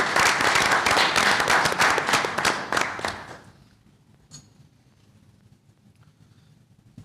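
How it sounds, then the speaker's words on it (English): Audience at a community club board meeting giving a round of applause, brisk clapping for about three seconds that stops abruptly, leaving a quiet room with faint background noise. "Let's give her a round of applause"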